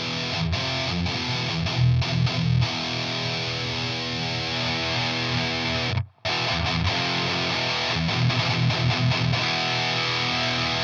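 Heavily distorted electric guitar chords played through an amp ring out loud and sustained, with a brief cut around the middle before the crunchy tone resumes.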